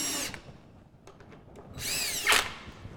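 A cordless drill whirs in short bursts, driving bolts into a chair, spinning up and stopping twice, with light clicks between the runs, close by and fairly loud.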